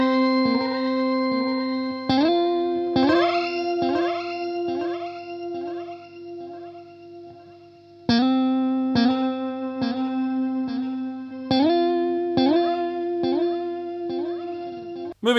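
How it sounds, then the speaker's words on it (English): An electric guitar runs through a Cirrus reverb and delay pedal in its octave delay mode, playing repeated plucked notes whose echoes ring on with rising octave tones swelling in, steady and close with no voices. "And the third delay mode is Oct, which stands for octave."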